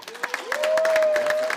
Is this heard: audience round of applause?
yes